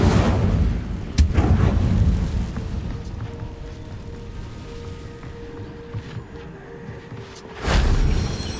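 A fire spell is cast in the video game Hogwarts Legacy, a loud booming whoosh bursting at the start, a rumbling burst of flame under game ambience, and a second heavy blast near the end.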